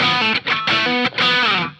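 Distorted electric guitar, a 2020 Fender Ben Gibbard signature Mustang in natural finish, plays a short loud phrase of sustained chords with brief gaps between strums, alone and close, fading out at the end.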